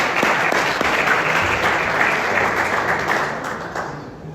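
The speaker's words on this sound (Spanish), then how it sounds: "Otro fuerte aplauso." An audience at a book presentation gives sustained applause, a dense, loud wash of many hands clapping together that holds steady and then tapers slightly toward the end.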